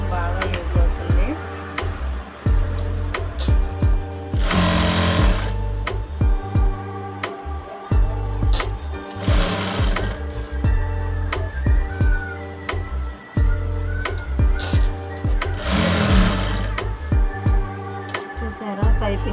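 Sewing machine fitted with a normal presser foot stitching thread piping onto a blouse, short bursts of rapid mechanical whirring separated by pauses, with someone talking throughout.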